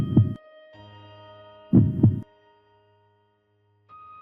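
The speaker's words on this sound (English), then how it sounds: "I hear my heart beating once more." Heartbeat sound effect in a short film: two distinct double thumps, lub-dub pairs about a second and a half apart, booming low and close over a sustained soft tonal hum.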